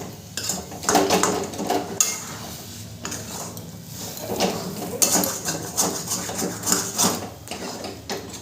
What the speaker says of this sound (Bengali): ধনেপাতা কুচিটা দিয়েও ভালো করে মিশিয়ে নেব।